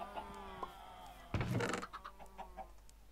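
Chickens in the video game Minecraft cluck in short, scattered calls, faint against the game's ambience, with one louder burst of flapping or squawking partway through.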